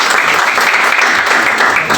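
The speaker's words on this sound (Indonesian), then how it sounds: "Tepuk tangan buat teman-teman." A classroom of students claps together in a dense, loud burst of applause lasting the whole moment, close and steady without a break.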